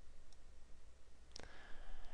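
A single soft computer mouse click stands out against faint background hiss and hum, followed by a brief trailing tone, with no one talking.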